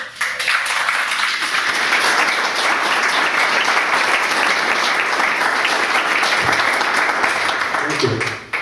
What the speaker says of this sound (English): Ladies and gentlemen, he deserves a round of applause